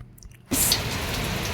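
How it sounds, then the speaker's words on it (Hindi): Heavy afternoon rain starts abruptly after a brief quiet moment, becoming a steady, dense hiss of falling water that continues alone at moderate loudness. "इतनी तेज़ बारिश हो रही है यहाँ पे, इतनी तेज़।"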